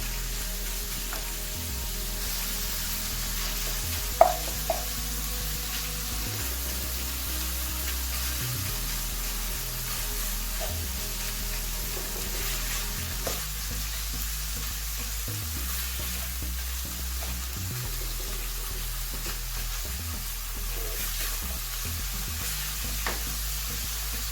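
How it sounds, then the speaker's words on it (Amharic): Meat and onions fry together in a pan for a breakfast dish, a constant soft sizzle and hiss close by with occasional light knocks and stirring sounds, steady throughout with no talking. "እዚህ ጋር ስጋውና ሽንኩርቱ በደንብ እንዲበስል አንድ ላይ ቶሎ ጨምሬያለሁኝ።"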